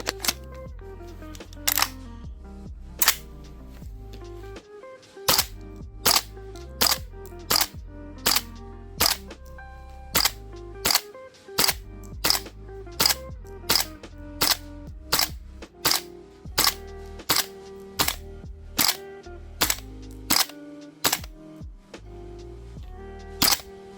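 A gas blowback airsoft Rattler rifle fires BBs in freezing cold at -7°C, a long series of sharp, loud cracks with mechanical clacks, spaced roughly a second apart with brief irregular pauses.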